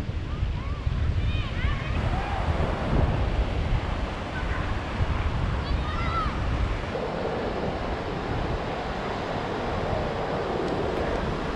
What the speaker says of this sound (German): Es wellt kräftig